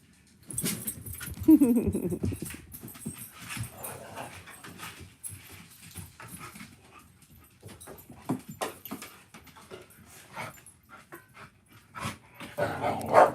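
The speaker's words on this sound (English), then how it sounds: "Anybody want a dog?" A large, roughly 60-pound dog with a big attitude barks and whimpers indoors, with the sounds coming in uneven bursts. The loudest burst comes early, and there is some background noise.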